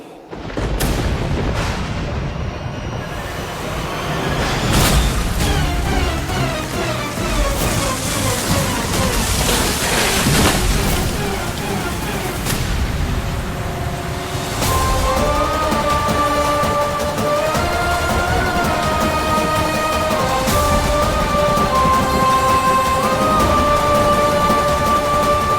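Heavy rain hisses steadily with rolling thunder booms, unseasonal rain in a TV drama scene, while music swells in the background.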